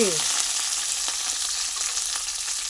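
Dried red chilies and curry leaves frying in hot oil for upma, a steady close crackling sizzle throughout with a brief tone at the start and no talk.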